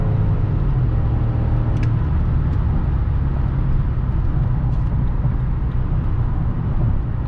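A remapped BMW X5 E53 4.4i V8 pulls hard at full throttle on the autobahn, its engine roar steady and loud from inside the cabin, mixed with road and wind noise.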